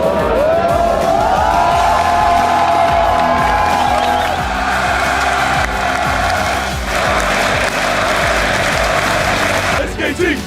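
Loud crowd applause and cheering with whoops at a 2014 All-Star League of Legends esports semifinal between Fnatic and SKT, sustained roar filling the arena over game sounds, building throughout.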